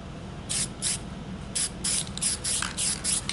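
Short hissing bursts from an aerosol spray paint can applied to artwork come in an irregular series of quick puffs, close and fairly loud, with no talk.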